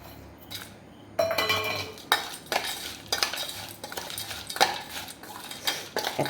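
Spiced puffed rice being mixed with chanachur in a bowl, giving repeated scraping and clinking strokes of a utensil against the dish, close and fairly loud, with no talking.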